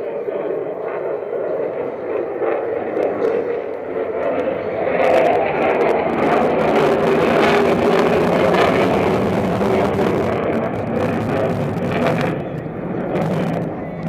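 An aerobatic jet, the Hornet flown under call sign Luke, performs a tail-standing loop at the Reno Air Races, its broad engine roar rumbling steadily and swelling midway beneath continuous announcer commentary over loudspeakers.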